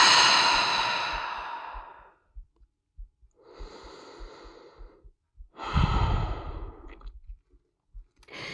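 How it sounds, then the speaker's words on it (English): Deep, slow breaths during a floor exercise on a mat: one long exhale, then softer inhales and a sharper, louder breath out, all close and quiet, with faint mat clicks between. "take a breath here"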